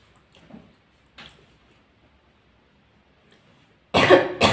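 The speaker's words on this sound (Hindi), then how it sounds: "खांसी हो गई यार" A loud, close cough bursts out after a few quiet moments marked by faint throat sounds.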